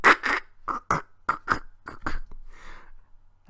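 A man vocally imitates a zebra crossing a bridge in Brooklyn with a string of short, percussive mouth noises in uneven bursts, close and dry, trailing off into a softer breathy rasp.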